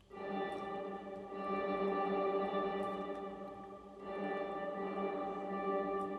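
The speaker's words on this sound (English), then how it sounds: "let's just get a nice kind of reverb sound" Sustained UK garage synth pluck tones washed in heavy reverb, ringing and blurring together into a dense, echoing pad that swells and shifts over several seconds.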